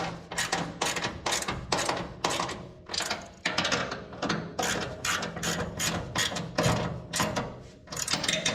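Rapid ratcheting clicks from tightening an automotive hood hinge adjuster, a steady run of close, loud mechanical ratchet strokes over several seconds with brief pauses between bursts.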